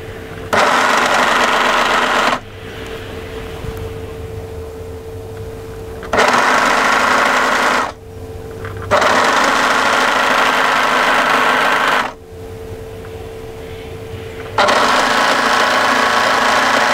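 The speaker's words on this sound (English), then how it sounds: "So what we're going to do now is overlock the entire bottom edge of this piece" Overlocker running along the bottom edge of a sweater piece, in four loud bursts of fast humming whir separated by quieter gaps with a low motor hum, near and alone without talk.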